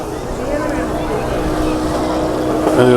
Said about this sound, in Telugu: speed boat